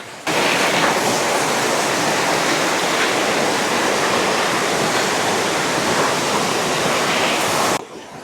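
A waterfall in the Sinharaja rainforest near Lankagama pours in a loud, steady broadband roar with no let-up, close to the listener, and no voices are heard.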